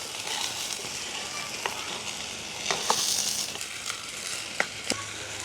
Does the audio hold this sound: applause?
no